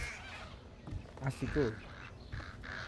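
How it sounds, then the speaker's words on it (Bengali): Pigeons coo and flutter in the stealth video game Thief. Short bird calls rise briefly in the middle, and someone talks quietly over the game sounds. "এত কবুতর টবুতর"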